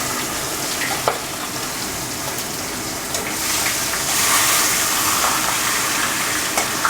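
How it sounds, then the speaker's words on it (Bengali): Fish heads fry one by one in hot oil for muri ghonto, a steady close sizzle with occasional sharp pops and crackles that swells louder midway, and no one speaking. "এবারে মাছের মাথাগুলো আমি তেলে ভেজে নিচ্ছি এক এক করে।"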